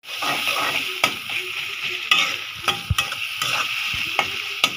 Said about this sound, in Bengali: পেঁয়াজ বেশি করে দিয়ে আমি ডিমটাকে ভুনা করব।